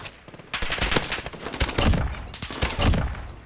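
Rapid gunfire in a Call of Duty: Modern Warfare match where a Dragunov sniper rifle is in use, with sharp shots close together in bursts over a steady din of battle.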